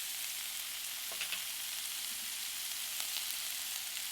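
Lotus stem slices frying in a pan, a soft, even sizzle with a couple of faint stirring scrapes, fairly quiet and without talk.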